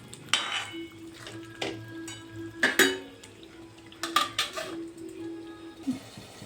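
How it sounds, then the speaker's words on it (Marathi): A lid clatters onto a pan of palak paneer among several sharp metallic clinks and knocks of cookware, close by over a soft sizzling background. "यावर पुन्हा एकदा झाकण ठेवणार आहोत"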